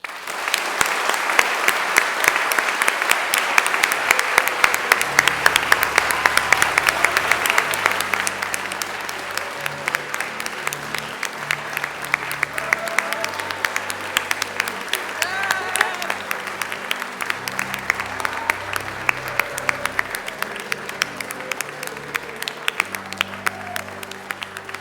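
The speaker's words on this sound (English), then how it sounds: "if everyone could join us in a round of applause for the Rev in appreciation for his presence of love and support" A church congregation at a Thursday service breaks into sustained applause for the reverend, dense clapping holding steady for about 25 seconds with some voices mixed in.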